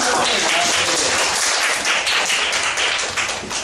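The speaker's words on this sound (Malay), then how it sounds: "Tepuk tangan." A burst of applause from a school class, many hands clapping together steadily and loudly for several seconds, tapering slightly at the end.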